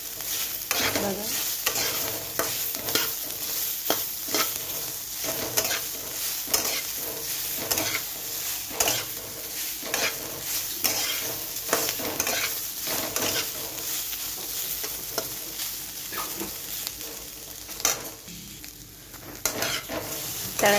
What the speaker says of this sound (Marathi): एकदम छान तळून घेतलो आम्ही थोड्याच तेलामध्ये